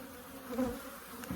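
Honeybees hum close by over open hive frames in a low, steady drone, with a louder buzz sweeping past partway through.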